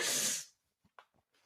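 A single loud, breathy sneeze bursts out at the start, followed by quiet pauses and a few soft, brief sounds.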